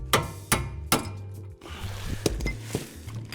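Hammer striking a suspension part on a Peugeot 106 during repair, a series of sharp metallic clanks in an irregular rhythm, close and fairly clear.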